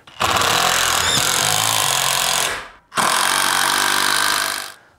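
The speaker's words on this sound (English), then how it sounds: "There's nothing like screwing a bunch of holes in your wall." A power drill bores holes into a wall in two long, loud, close bursts with a short pause between them. No one speaks.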